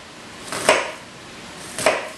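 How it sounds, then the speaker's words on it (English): A knife chops an onion on a cutting board with two distinct, moderately loud strikes spaced about a second apart over a quiet background. "It'll help hold your onion together when you're chopping it."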